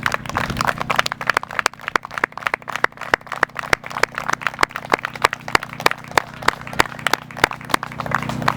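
Outdoor festival crowd applause at a justice rally, a thin, steady patter of scattered handclaps with sharp individual claps standing out over a low background hum.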